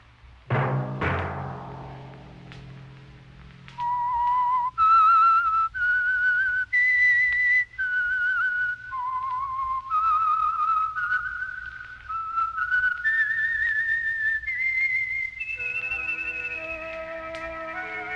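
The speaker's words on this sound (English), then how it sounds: "Let that whistle be your signal" A clear solo whistled melody moves note by note in a slow, lilting tune after a brief opening chord.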